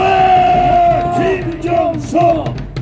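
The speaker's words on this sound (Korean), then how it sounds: "자, 우리 김정수 회장에게 큰 박수 한번 해주십시오." A crowd at an outdoor patriotic rally in Gwanghwamun, Seoul, cheers and shouts loudly in sustained bursts, voices whooping and yelling together nearby.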